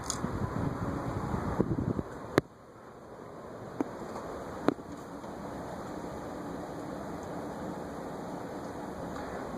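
A Hunter/Robbins & Myers Type 22305 three-speed ceiling fan with an ornate kit runs with a steady airy whoosh and faint motor hum, broken by a few sharp clicks while wind blusters outside.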